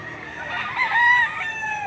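A rooster at a chicken sale gives a single thin, fairly distant crow that swells briefly, then fades against steady crowd noise, with no talk.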